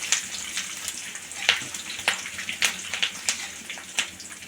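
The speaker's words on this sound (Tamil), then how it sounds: "கருவேப்பிலை போட்டிங்கன்னா கொஞ்சம் தள்ளி நின்றுக்கோங்க மேலே பொரியும் மேலே பட்டுரும் கருவேப்பிலை பொரிஞ்சு" Curry leaves frying in hot oil for beetroot rice, a close, continuous crackle and splutter with sharp pops scattered throughout, loud and alone.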